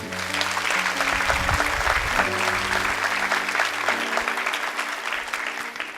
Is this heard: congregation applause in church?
yes